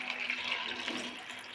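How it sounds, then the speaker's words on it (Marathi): Brinjals being washed in a bowl of water, a soft continuous splashing and sloshing that stays faint and close throughout the short stretch, with no talking. "तर मी आता सगळे वांगे स्वच्छ धुवून घेते"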